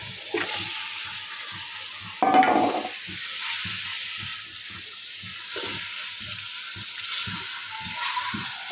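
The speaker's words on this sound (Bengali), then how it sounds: "আমার মাংসটা কষাতেছি, নাড়া দিয়ে দিলাম" Beef frying in oil with spices as it is stirred, a steady close sizzle broken by repeated scraping strokes of the spoon and a louder hiss burst early on.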